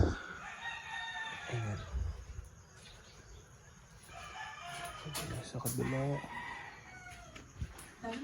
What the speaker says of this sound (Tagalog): tilaok ng mga manok